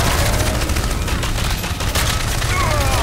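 Dense, sustained gunfire from the video game Crysis, continuous bursts of automatic fire with booming impacts, loud and close throughout the short stretch, with a voice briefly heard.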